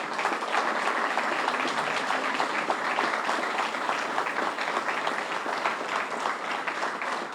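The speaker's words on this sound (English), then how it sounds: "please stand and let's give them a round of applause" Steady, sustained applause from a crowd honoring law enforcement officers at a Knights of Columbus patriotic awards ceremony, an even wash of clapping throughout with no break.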